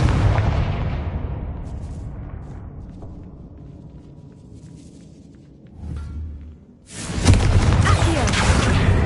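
A Confringo blasting spell in a Hogwarts wizarding video game goes off as a loud, rumbling burst at the start that fades away, followed by a quieter thump and then a second dense, roaring blast that carries on to the end.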